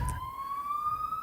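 Police siren sweeping past outdoors, a steady rising wail that holds loud for about a second with no voices.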